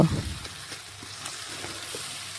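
Spice paste sizzles and fries in hot oil for a papaya and mutton curry, a steady close crackling hiss with a brief stronger burst at the start, no talk.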